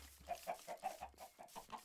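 Chickens in a blocky video game cluck in a quick, even run of short clucks, close and distinct, with no talk over them.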